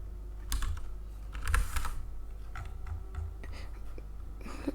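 Quiet typing on a computer keyboard, a quick cluster of soft key clicks near the start and scattered taps after, against a low background hum with no speech.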